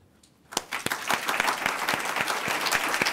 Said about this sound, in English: I think let's give USG Nakamitsu a round of applause